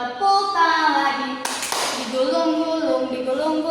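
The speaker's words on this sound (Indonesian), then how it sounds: "Buka tutup, bertepuk tangan." A woman demonstrates hand clapping for a counseling group activity: a burst of sharp, close claps in the middle, set between stretches of her sung or spoken voice.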